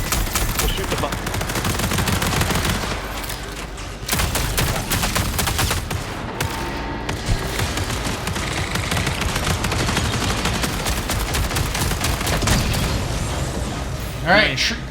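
Dense gunfire and booming shots from the video game Marathon, bursts of rapid automatic fire and heavy impacts running almost continuously and loud, with brief lulls and voices talking over the action.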